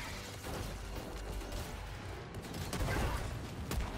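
Mortar strikes in Helldivers 2 land around the player as a dense, rumbling barrage of booms and rattling blasts, building louder toward the end with no pause.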